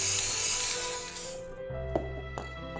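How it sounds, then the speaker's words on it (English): A close, hissing burst of black spray paint from a can that fades out after about a second and a half, followed by a few faint clicks and taps. "And spray paint black."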